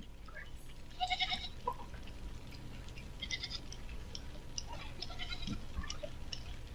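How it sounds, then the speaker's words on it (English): A loose herd of escaping goats bleats repeatedly, with several sharp, overlapping cries at irregular intervals over a steady outdoor background rumble. "Who had all of these goats? Where are they escaping from?"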